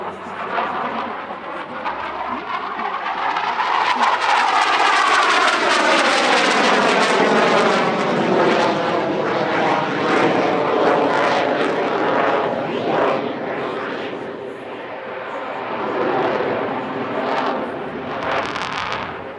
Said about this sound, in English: the M346 Belgian performing a full aerobatic routine for the very first